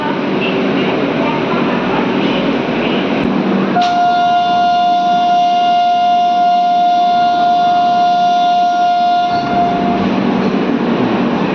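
Sirpur Kagaznagar–Secunderabad SF Express pulling out of Jangaon station: a steady rolling rumble throughout, with a loud, sustained horn-like tone sounding for about six seconds in the middle before it cuts off.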